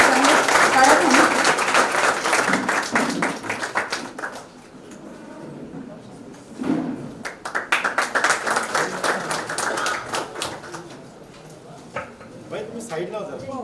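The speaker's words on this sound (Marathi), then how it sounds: "साहेब टाळ्यांच्या गजरात आपण स्वागत करायचं आहे." An audience claps to welcome officials at a Marathi public function in Beed, honouring a regional transport officer. Applause bursts in dense rhythm at the start, eases off, then swells again. Talk carries over parts of it.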